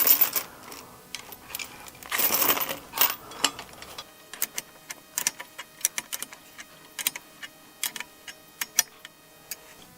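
A nut being tightened with a wrench on a hydraulic log skidding winch for tractors, heard as a run of sharp metallic ratchet clicks and taps, irregular and fairly close, with a louder scraping burst early on.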